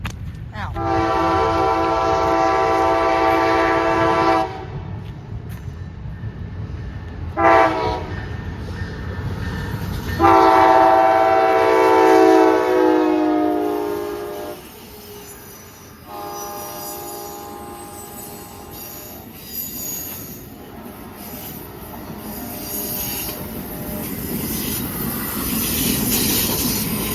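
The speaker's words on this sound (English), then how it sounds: "the next train we'll see is an Amtrak train coming from Atlanta" Amtrak passenger train from Atlanta passing at speed, with loud sustained horn blasts near the start and middle, then a steady rumble of railcars and a high metallic wheel squeal that persists to the end.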